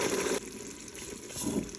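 Water gushes steadily into a pot of farfoucha with pepper-leaf couscous cooking in a Ninja Foodi. The pour stays loud and continuous, briefly easing in the middle before surging again.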